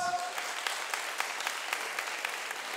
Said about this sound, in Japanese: 今まで戦った選手それからこれから出てくる選手の皆さんにも大きな拍手を送りたい と思いますのでよろしくお願いします